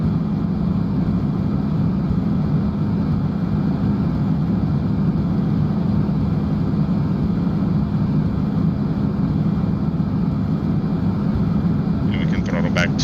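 Jet engines of a Tupolev Tu-144D climbing in Flight Simulator X give a steady, loud, broadband roar with a whining hum that stays unchanged throughout.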